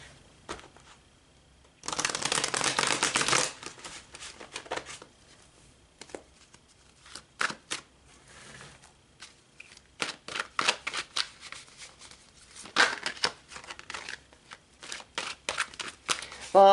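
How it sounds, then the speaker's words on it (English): Tarot cards being shuffled up close, a long dense riffle burst early on followed by scattered soft card flicks and taps, with some quiet talk in between. "So let's pull some tarot."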